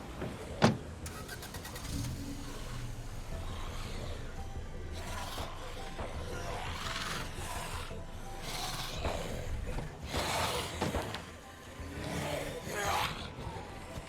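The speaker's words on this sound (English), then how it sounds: "Hang out in my car for a moment." A car engine in a video game runs steadily throughout, with a rough, rumbling drone, mechanical scraping and clicks, and a sharp knock near the start.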